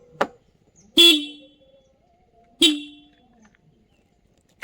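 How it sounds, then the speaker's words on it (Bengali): A new motorbike's horn sounds three times, loud and close: a brief first toot, then two longer honks about one and a half seconds apart, each cut off abruptly, against an otherwise quiet background. "তোমাদেরকে হর্নটা একবার শোনাই।"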